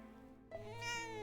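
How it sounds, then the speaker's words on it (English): A cat in the video game Dragon Quest VII meows once in a drawn-out, rising call that is clear and alone over quiet game background. "Good kitty. Catching mice for us."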